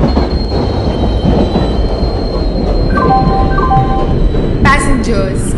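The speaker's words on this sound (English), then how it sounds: "Passenger Express is arriving at platform number" Passenger express train in Indian Train Simulator rolling into a station platform, a loud steady rumble with high wheel squeals and horn-like tones near the end, under a faint station announcement voice.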